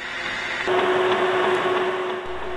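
A lathe started up for threadcutting, giving a brief steady machine whir with a sustained tone that begins abruptly and cuts off just as suddenly, close by and alone.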